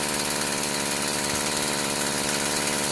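Stihl FS46 string trimmer engine that won't rev up, running close and loud with a steady buzzing drone that wavers as it stumbles under throttle, no voices.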